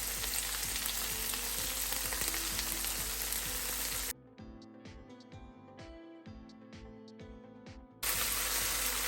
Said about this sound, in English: Now we'll add our chopped green chilies and tomatoes.